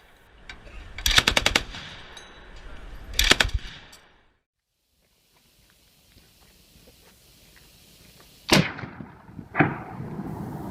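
KPVT heavy machine gun on a technical mount firing 14.5mm armor-piercing incendiary rounds, loud near bursts of rapid shots, two bursts, a silent gap, then two more bursts.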